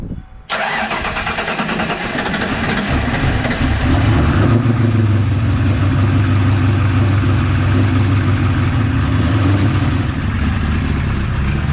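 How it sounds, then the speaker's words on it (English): A cold car engine with a Terminator X fuel system cranks briefly, catches and roars to life, then settles into a loud, steady idle that rumbles on unchanged. "So I got to start the car up."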